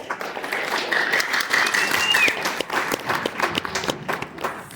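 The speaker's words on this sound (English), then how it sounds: "Let's give them a round of applause." Audience applauds after a high school musical performance in a school auditorium, a steady crowd clapping with a few cheers, fading toward the end.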